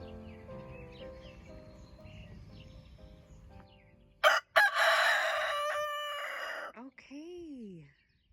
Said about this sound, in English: The constant crowing, it only happens when he hears the other roosters.